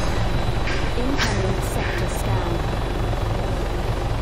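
Helicopter in the video game Arma 3, a loud, steady rotor and turbine drone heard close throughout, with faint voices briefly under it.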